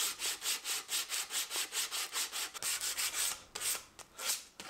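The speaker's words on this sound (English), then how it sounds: "then did the final sanding up to 180 grit" Rhythmic back-and-forth sanding strokes on a beech wood desk frame at 180 grit, a steady run of even rasping passes up close, then a few irregular strokes toward the end, with no talk.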